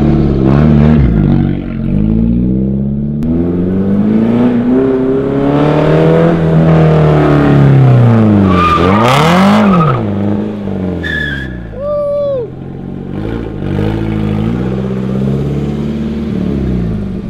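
A car skids on a street after an e-brake entry, its engine roaring loudly as the tires squeal in a long rising and falling screech, close and continuous, with a brief sharp squeal near the end.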